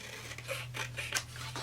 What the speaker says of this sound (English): Maybe the scissors.